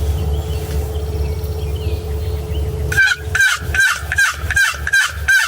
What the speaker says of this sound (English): Hearing gobbles in the darkness just before the crack of dawn certainly gets your heart pumping.